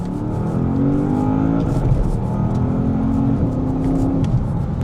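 A Porsche Panamera Turbo 971 in Sport Plus mode accelerates hard in second gear, its loud engine note climbing steadily in pitch close up inside the cabin, with no talk.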